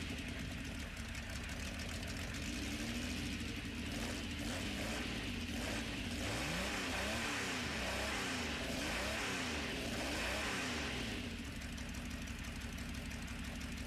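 A Jaguar XJ13 race car in Gran Turismo Sport revs and accelerates through rising and falling engine sweeps over a constant mechanical roar, loud and continuous with no talk.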